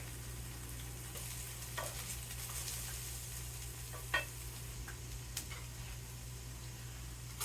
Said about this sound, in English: So we'll let our potatoes cook up